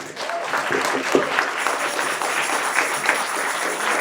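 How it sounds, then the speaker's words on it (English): Audience applause at a New Jersey climate action gathering, steady clapping from a sizable crowd filling the room for a few seconds with a couple of sharper peaks. "Give yourselves a round of applause"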